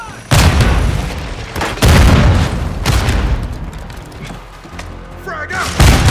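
Heavy booming blasts from a drop charge explosion in Call of Duty: Modern Warfare II, several loud thuds rolling one after another over continuous game noise and announcer-style voice lines.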